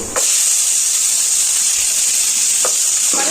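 Cumin seeds and green chilies frying in hot oil in a pan, a loud continuous sizzle with a few brief stirring knocks, no voices.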